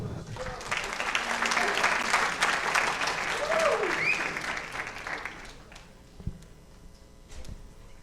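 A school audience gives a student spoken-word performer a full round of applause, steady and fairly loud for about five seconds before fading into a few scattered claps and room noise.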